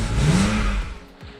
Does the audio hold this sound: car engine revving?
yes